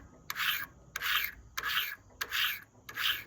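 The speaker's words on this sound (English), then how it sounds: "You can hear like a real gritty sound of that burr grinding, and by the 10th stroke, it'll be smooth sounding." A three-blade broadhead is stroked across a rough sharpening stone in five slow, evenly spaced rasping strokes, each a gritty scrape of the burr grinding, close up and fairly quiet, with no talking.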